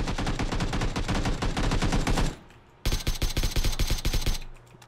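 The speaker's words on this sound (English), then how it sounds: "I shot half of my clip at him." Rapid automatic gunfire in PUBG, a dense run of loud shots for about two seconds, a brief lull, then a second sustained burst that cuts off near the end.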